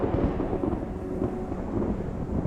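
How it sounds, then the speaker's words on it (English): A low, continuous rumble of thunder rolls through an early monsoon storm on a tropical island, a steady, heavy roar with no voices. "A rumble of thunder heralds an early monsoon storm."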